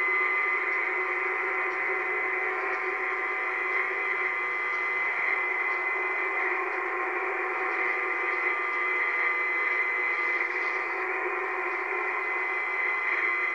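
A radio receiver on a compact 28 MHz antenna gives a steady, unchanging electronic squeal with a constant hiss under it, holding the same level throughout.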